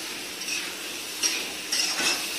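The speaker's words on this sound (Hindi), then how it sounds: "अरवी को भी थोड़ा सा इसको मसाले के साथ भून लेते हैं।" Taro root being fried with masala in a pan, a steady soft sizzle with a few scraping stirs and light clinks of the utensil against the pan, no talking.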